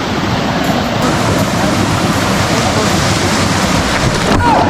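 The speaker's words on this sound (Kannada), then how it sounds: "ಈಗ ಗೋಯಿಂಗ್ ಇನ್ಸೈಡ್ ದ ಫಾಲ್ಸ್" Rushing water roars from a waterfall near Chikkamagaluru while rain falls. The sound is close and loud, a constant broadband wash with wind buffeting the microphone at moments.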